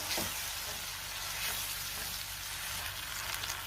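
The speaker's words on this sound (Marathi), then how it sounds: "टोमॅटोची पेस्ट सुद्धा मी व्यवस्थित परतून घेणार आहे" Tomato paste sautéing in oil in a pan for an everyday vegetable curry, a faint continuous sizzle with light stirring, close and quiet with no voices.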